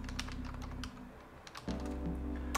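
Close, quiet keystrokes on a computer keyboard in a short run of light, irregular clicks over a steady low background hum.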